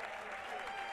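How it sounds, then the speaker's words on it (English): A brief burst of audience applause for a panel at an HIV/AIDS discussion, dense clapping holding steady throughout. "one more round of applause for the whole panel and your participation"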